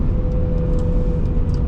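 A Mazda RX8 with a rotary engine drives along, its steady low drone and road rumble loud and continuous from inside the car for under two seconds, with no talk.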